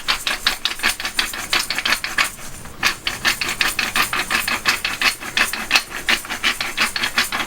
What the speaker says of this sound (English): you'll want a good grind of black pepper